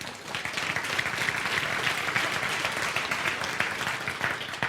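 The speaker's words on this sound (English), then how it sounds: "Give him a round of applause." An audience claps in dense, sustained applause, many hands together at a steady level from start to finish.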